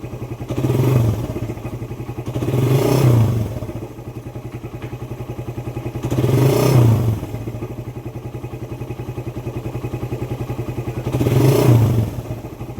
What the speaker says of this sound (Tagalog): So subukan natin i-rev.